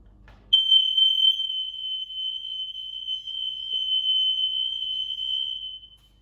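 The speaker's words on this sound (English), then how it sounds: "There's a button on the smoke alarm which you press and hold down for a second." A single loud, high-pitched smoke alarm test tone sounds continuously for several seconds, close by, then cuts off.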